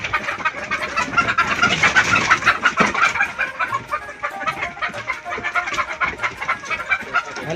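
A dense flock of Pakistani tiger chickens at a poultry farm clucks and squawks continuously, many birds close by with overlapping calls and occasional louder cries, no speech.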